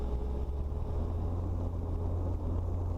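A training helicopter's engine and rotor drone steadily and loudly as throttle is rolled on, a continuous low rumble with wind buffeting the microphone throughout.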